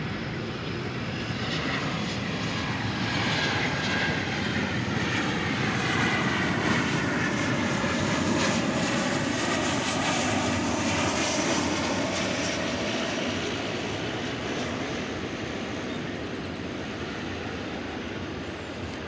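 A fixed-wing jet airliner at DFW Airport, Delta Flight 1726, roars steadily on its takeoff run, a loud, sustained engine rumble and whine that swells slightly toward the middle and holds without a break.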